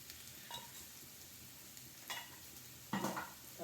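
Chicken fried rice with egg and pepper powder stir-fries in a pan, a low continuous sizzle broken by a few sharper scraping stirs, the last one loudest.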